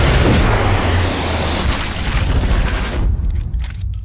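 A sniper rifle shot in the Sniper Elite 4 video game bursts out loud at the start, then a long booming rumble and echoing tail fade over a few seconds, with no talk.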